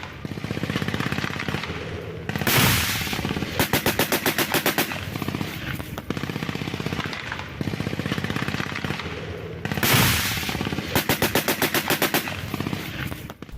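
Sustained automatic gunfire attributed to Hamas fighters in a residential area, with rapid, evenly spaced bursts of shots, loud and close, separated by brief pauses and a couple of heavier bangs.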